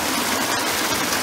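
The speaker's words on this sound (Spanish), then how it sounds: "Voy a tocar el agua" Water of an abandoned sulphurous spa stirred by a hand, giving a steady, close, broadband rushing wash over its short length with no voices.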